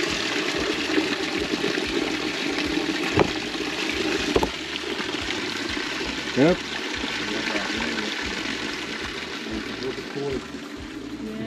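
Clear spring water runs out of limestone hills, a steady close trickling and splashing flow that continues throughout, with a voice speaking briefly over it.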